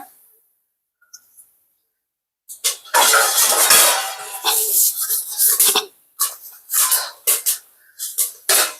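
Popcorn kernels beginning to pop inside a hot pressure cooker with oil, sharp crackling bursts and rattles after a quiet start, coming in irregular clusters that grow denser.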